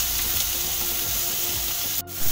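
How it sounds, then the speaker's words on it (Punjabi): Onions sizzling in melted butter in a hot pan, a steady close crackle and hiss with a soft scrape near the end, no voices. "ਹੁਣ ਇਹਦੇ ਵਿੱਚ ਆਪਾਂ ਪਿਆਜ਼ ਪਾ ਲਾਂਗੇ।"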